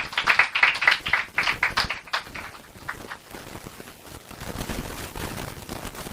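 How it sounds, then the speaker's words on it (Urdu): A church audience claps hard at a pastor's service, a burst of vigorous applause in the first couple of seconds that quickly thins out into quieter room noise. "اب ذرا زوردار تالیاں ایک دفعہ لگا لیں اپنے لیے"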